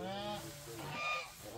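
Farm geese honk close by in a short burst of loud nasal calls, several overlapping honks with a brief pause before another call.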